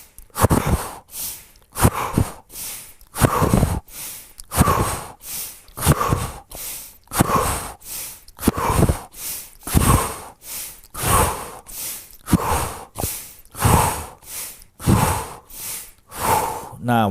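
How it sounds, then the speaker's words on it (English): Deep inhales and exhales repeat in a steady rhythm throughout a breathing exercise, each breath close and clearly audible, about a dozen cycles with brief pauses between. "So you inhale."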